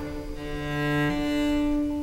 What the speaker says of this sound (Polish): I wiolonczela brzmi tak jesiennie, kiedy jej struny pociera.